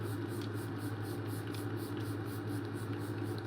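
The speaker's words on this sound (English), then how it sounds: "I have been liking this setting spray, the e.l.f. Stay All Night Blue Light Micro Setting Mist." e.l.f. Stay All Night Blue Light Micro Setting Mist sprayed in a series of quick, evenly spaced hissing pulses, close and steady, over a constant low hum.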